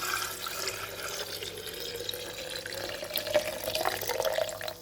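Tap water runs steadily from a faucet over aloe vera skin, a continuous splashing hiss at close range with no talk.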